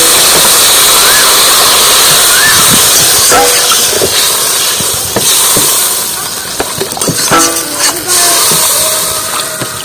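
Water is poured into a hot pan of spicy shol and singi fish curry, setting off a loud, continuous roaring hiss of steam with scattered crackles and pops.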